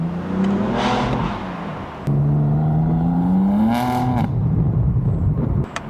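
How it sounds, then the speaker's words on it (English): A BMW M4 with the S55 twin-turbo inline-six revs up in two rising pulls, loud and close. The exhaust note climbs, drops back, then climbs again, and a short pause separates the two runs. "But here's a little exhaust of the S55."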